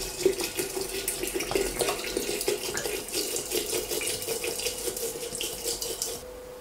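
A litre of vinegar poured into a jar of hot sugar water for pickling green tomatoes, heard as a steady splashing, gurgling stream of liquid that runs for several seconds and then stops.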